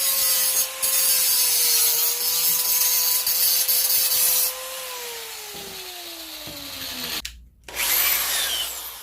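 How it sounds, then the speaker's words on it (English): A grinder whines loudly as it cuts off rivets on a Humvee door, its pitch sagging under load before a brief cutoff, then the harsh grinding resumes. "typically I just take a grinder,"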